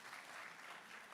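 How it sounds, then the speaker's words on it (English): An audience clapping for itself at a Ghana infrastructure plan presentation, a brief, very faint wash of crowd applause heard from a distance. "so clap yourselves again"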